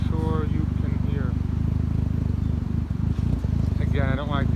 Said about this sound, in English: And it has a nice exhaust rumble,